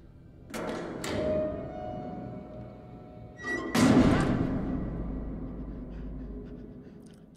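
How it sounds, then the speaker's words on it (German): Two heavy thuds a few seconds apart, the second a loud slam of an automated door with a boomy low rumble trailing off, over a quiet background hum, in the video game Man of Medan. "Das ist nie ein gutes Zeichen, wenn die Tür automatisiert so stark zugeht."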